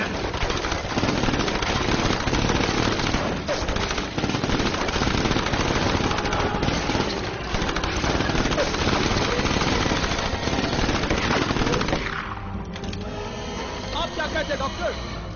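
Sustained gunfire from a group of guns firing together in a dubbed sci-fi action movie about giant bugs, loud and continuous for about twelve seconds under a dense mix of voices and effects, then dropping to a quieter scene.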